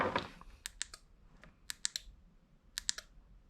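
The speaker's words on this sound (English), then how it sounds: "you can hear the relay clicking" A relay in a Yak Power switch panel on a Bonafide SS127 kayak clicks in quick, sharp bursts, several close, crisp clicks in small groups with quiet gaps between.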